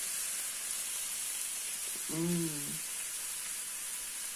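Food sizzles in a frying pan with butter as part of a breakfast, a steady soft hiss running throughout, with a brief murmured voice sound in the middle.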